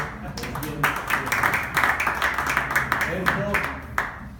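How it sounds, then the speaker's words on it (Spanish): An audience at a press conference in Vigo launching the Verandeportivo 2019 summer sports programme breaks into lively clapping that continues throughout, thick and sustained with a few sharper claps standing out. "Y ahora le aplaudimos a cada uno de vosotros"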